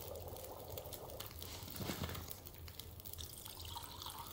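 Water boiling in a pot during cooking in the survival game The Long Dark, a faint, steady bubbling and gurgling with no voices.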